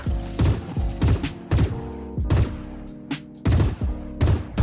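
Gunfire in the shooter game Valorant comes as about seven short, sharp bursts at irregular intervals, with background music playing underneath.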